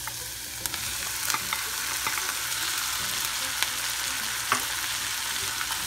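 Tomatoes frying with colorau in a pan, a loud, continuous close sizzle broken by sharp crackles and occasional spatula scrapes, heard alone.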